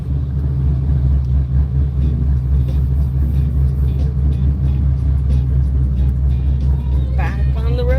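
A car travels along the road with a constant low engine and tyre rumble heard from inside the cabin, loud and unbroken, with faint higher sounds rising near the end.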